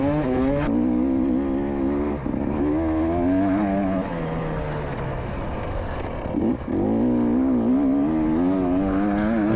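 A cross-country race car held at full throttle on a Ukrainian junkyard-style dirt track, its engine roaring loud and close with steady high revs, brief dips around gear changes or landings, then climbing again.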